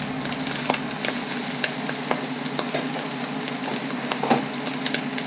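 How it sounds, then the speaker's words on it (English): Cooked jasmine rice frying in a pan, a steady sizzle with scattered clicks and scrapes from stirring and scooping, continuous and close. "let's scoop in the rice"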